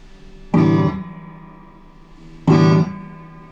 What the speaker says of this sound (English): Plugged in our reverb tanks on the bench, and reverb works.